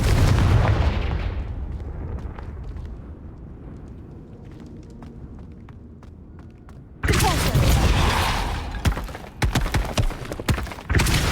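A Confringo spell exploding in Hogwarts Legacy, with a loud blast that decays into quieter rumble, then a second burst of sharp cracking impacts.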